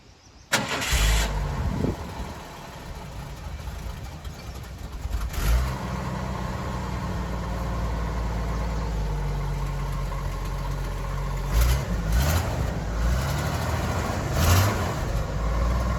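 A 1982 Ford F-150 with a custom dual-muffler exhaust cranks and fires up, then settles into a steady, rumbling idle with a few short throttle blips, close and alone.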